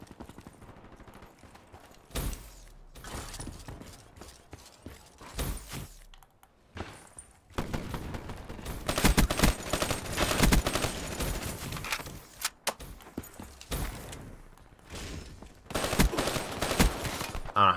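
XR-2 rifle fire in Call of Duty Black Ops 3 team deathmatch on the Combine map, with sustained automatic bursts and rapid crackling volleys, sparse at first and then dense and loud through the second half.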